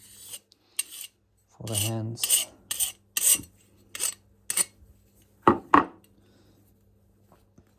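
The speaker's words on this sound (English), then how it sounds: "Right, so chainsaw file, not the best one for this, but it's round and it should help." A round chainsaw file rasping against a metal Juuma No. 4 bench plane, heard as a series of short, harsh scraping strokes up close, with a few words spoken briefly partway through.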